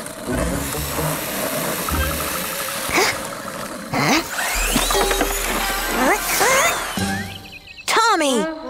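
A toy car with a tweaked engine runs with a low mechanical rumble and ratcheting clicks, mixed with cartoon voices, whistles and sound effects throughout.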